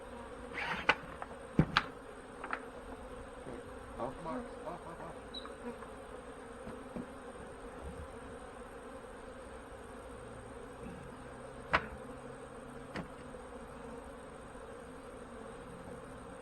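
Faint, steady buzzing of many honey bees on a cleansing flight, with occasional louder individual bees zipping close by.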